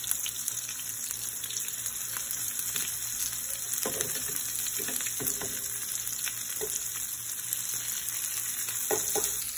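Small sausages sizzle steadily in a hot pan, a constant close crackle with occasional light clicks and scrapes as they are turned.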